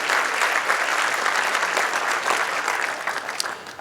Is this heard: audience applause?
yes